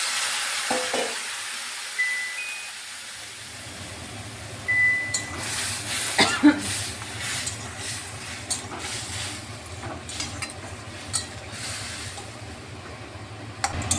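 Potatoes mixed with spice paste and a little water in a pan for a bhindi dish, with soft scraping stir strokes and a gentle sizzle rising after the water goes in, close and fairly quiet.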